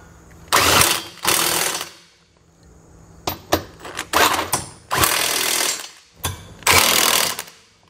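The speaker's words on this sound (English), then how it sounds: "we can grab a 22mm socket and snug everything down" A power tool drives a 22mm socket onto trailer hitch receiver bolts in loud, close bursts of rattling hammering, about five runs separated by short pauses, with no talking.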